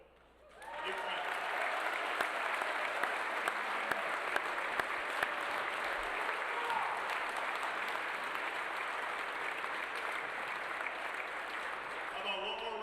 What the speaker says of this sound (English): How about one more round of applause for the class of 2025?